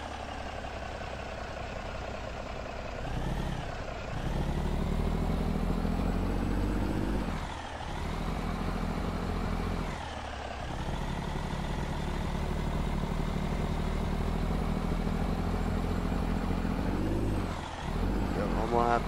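A heavy truck in American Truck Simulator labours under a 182,000 lb load, its low engine drone steady and loud with brief dips at gear changes, a soft hiss now and then.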